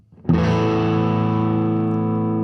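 A single sustained chord on a Fender American Elite Telecaster electric guitar with both pickups wired in series, struck once and ringing out thick and mid-heavy with slight grit, alone.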